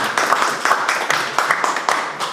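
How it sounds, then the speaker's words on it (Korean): Audience applause at a job-related academic seminar, a dense burst of clapping with irregular peaks lasting a couple of seconds, fairly loud and close. "큰 박수를 부탁드립니다."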